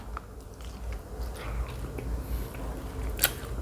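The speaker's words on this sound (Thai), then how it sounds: "ฟังเสียงกรอบๆให้หูแตกไปเลยครับแคบหมู" Crunchy pork rinds chewed close to the mic, a steady stream of crisp bites and crackling crunches with one sharp snap near the end, alone with no talking.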